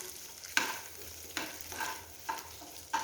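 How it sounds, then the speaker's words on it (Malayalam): A spoon stirs chopped pieces frying in ghee in a pan for parippu payasam, with a steady quiet sizzle and several distinct scraping strokes spaced about half a second to a second apart, close by and with no talk. "ഇതൊന്ന് ബ്രൗൺ കളർ ആവുന്നത് വരെ ഒന്ന് നെയ്യിൽ ഇളക്കി കൊടുക്കാം"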